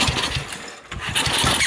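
The 8hp engine of a John Deere 110 lawn tractor runs loud and close with a rough, uneven drone that dips briefly in the middle before surging back.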